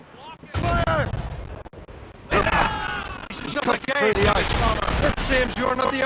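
Ship cannons booming in the Assassin's Creed Rogue video game during a naval battle, heavy repeated blasts mixed with loud game voices, crashing effects and dense battle noise.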